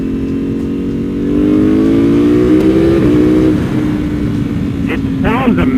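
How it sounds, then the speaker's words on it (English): A Ducati Panigale motorcycle exhaust revs up in a steady rising drone, then drops and climbs again as the engine winds out on the road. The sound is loud and continuous, with some wind rush around it. "I love this exhaust."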